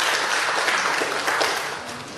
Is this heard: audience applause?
yes